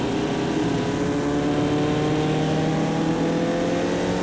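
A Ferrari F40 in the racing game Automobilista 2 holds a loud, steady engine drone, dense and continuous throughout with a slowly shifting pitch, with no talk over it.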